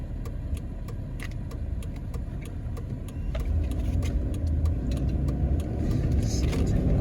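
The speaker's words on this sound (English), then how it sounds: "Somebody driving so crazy, man." A car driven recklessly on a neighborhood street, its engine noise a steady low rumble that grows louder partway through, with faint clicks and rattles on top.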